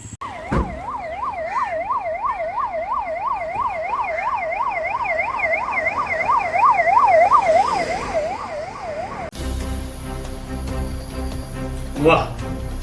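An ambulance siren wails loudly and continuously in a rapid rising-and-falling pattern for most of the stretch, then cuts off abruptly into a different sound.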